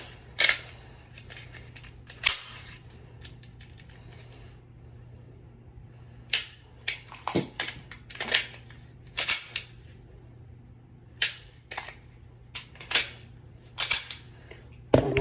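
Sharp, isolated pistol trigger clicks from dry firing an empty handgun, arriving in irregular bursts and single snaps over a low, steady hum, close and fairly loud.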